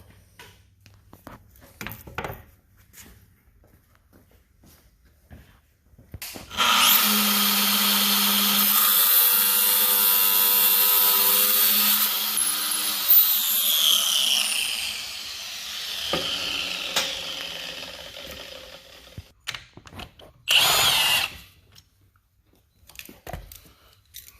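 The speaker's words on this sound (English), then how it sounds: "we're going to take a abrasive saw and cut this off" Abrasive saw cutting off a part on a Roxor vehicle during a 2.5-inch add-a-leaf suspension lift, a loud steady high-pitched grinding whine lasting several seconds, then a sputtering tail-off and a short second burst.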